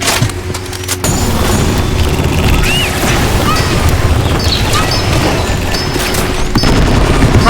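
Loud, dense blast in a video game after a maximum rocket shot, a sharp onset near one second giving way to sustained crashing, splintering roar with scattered debris cracks that fills the rest of the clip.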